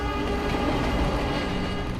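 Trains on the tracks in Mumbai give a steady, loud, close rumble of wheels and rolling stock with no break, filling the whole moment.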